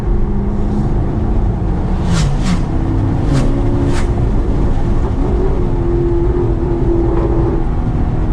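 An Alfa Romeo 8C Competizione engine drones steadily at a constant level, with a few sharp high-pitched bursts partway through, loud and close.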